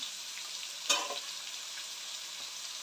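Onion and crushed garlic fry in a pan with a soft, steady sizzle, faint and close, with one brief stirring scrape about a second in.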